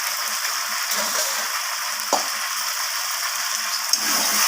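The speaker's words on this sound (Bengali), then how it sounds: "দিয়ে মশলা এবং আলুর সাথে ভালোভাবে চিকেনগুলোকে আমি কষিয়ে নেব" Yogurt-marinated fried chicken pieces sizzle steadily in a pan with spices and potatoes while being sautéed for chicken curry, a constant frying hiss broken by occasional spatula scrapes and clinks.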